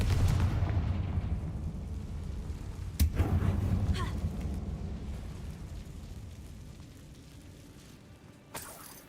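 A Confringo spell blast in Hogwarts Legacy inside a closed mine resembling a tomb: a low rumbling roar with a sharp crack near the middle, then a long fading decay and a smaller pop at the end.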